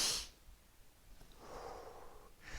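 Forceful, breathy exhales from Gyaku breathing during the karate kata Tensho: a sharp burst, then a longer, softer push of air, then another sharp burst, heard close and alone.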